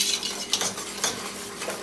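A spoon stirring nutritional yeast into a pot of vegan creamy mushroom soup, soft scraping and swishing strokes repeating a few times, close and alone.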